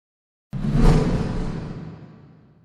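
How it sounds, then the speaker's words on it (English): A single whoosh effect with added reverb sweeps in suddenly after half a second of silence, swelling to a peak within a few tenths of a second before trailing off in a long, fading reverberant tail. "I'm simply just going to copy that same whoosh to the other one."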